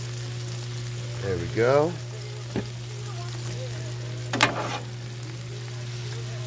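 Brussels sprouts frying in oil and bacon grease on a Blackstone griddle, a low steady sizzle under a loud electrical hum, with someone speaking briefly and a couple of sharp clanks of a utensil.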